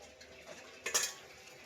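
A lid is set back onto a pot of sinigang with bangus and kangkong simmering on the stove, giving one quiet metallic clink and rattle after some faint kitchen clatter, with no talk.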